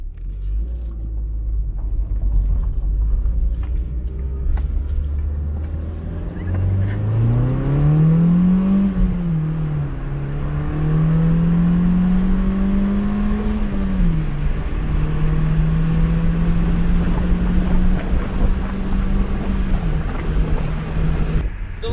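A Honda Civic, a salvage-auction car, pulls hard on a speed run, its engine note climbing steadily in pitch through the gears with brief dips at the shifts. The note stays loud and close throughout, and no one speaks.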